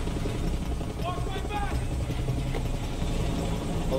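A helicopter in the Far Cry 6 video game gives a steady, fairly loud rotor drone beneath a speaking voice, with brief bright game effects overlaid.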